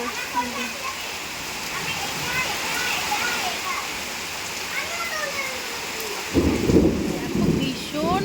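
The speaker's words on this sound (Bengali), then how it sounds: "মেঘ ডাকছে কিন্তু" Thunder rumbles through steady rain in an open outdoor setting by a road and field, with a louder, closer rumble swelling near the end; there are faint voice-like sounds in the background.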